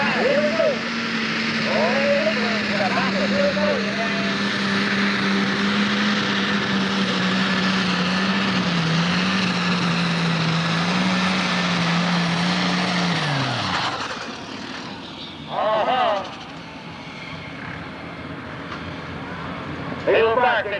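A 1995 super tractor pull in Central City, Kentucky, where a 6,000 or 7,500 lb pulling tractor with an alcohol-burning engine roars loudly and continuously before cutting off abruptly, with an announcer's voice heard over and after it.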